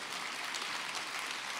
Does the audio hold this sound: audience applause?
yes